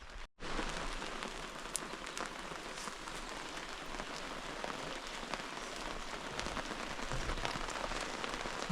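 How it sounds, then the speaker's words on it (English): Light morning rain falls at an outback campsite in western Queensland, a soft, steady patter of drops on surfaces that stays constant and fairly quiet throughout, with no voices. "We've woken up to a bit of rain this morning, which had been forecast. It's only a light rain"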